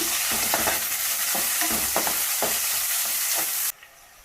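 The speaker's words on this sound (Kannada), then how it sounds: "ಕಡಲೆಬೇಳೆ ಉದ್ದಿನಬೇಳೆ ಎಲ್ಲ ಆಗಿದೆ. ಅದಕ್ಕೆ ಈರುಳ್ಳಿ ಮಿಕ್ಸ್ ಮಾಡ್ತಾ ಇದ್ದೀನಿ." Onion is stirred into chana dal and urad dal frying in a pan, a dense close sizzle with rhythmic scraping strokes that stops abruptly near the end.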